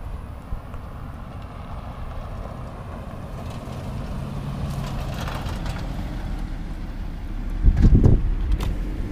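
A car arriving on a road to collect hang glider pilots after landing, its engine rumble growing slowly louder as it approaches, with a heavier swell near the end.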